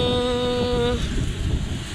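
Strong typhoon wind buffets and roars close by, a dense rushing noise, with a brief tonal hum fading out in the first second.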